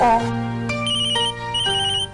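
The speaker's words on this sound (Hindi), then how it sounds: "मेरा फोन बजा।" A melodic phone ringtone plays loud and close, its repeating electronic tones sounding steadily for a couple of seconds.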